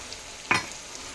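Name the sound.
frying curry with tomato paste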